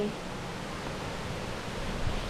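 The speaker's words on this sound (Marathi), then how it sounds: "हे बघा चावडाव धबधबा पाणी पण कमी आहे" Steady broadband rush of the Sawdav waterfall with a low flow of water, a continuous even roar heard alone without talk.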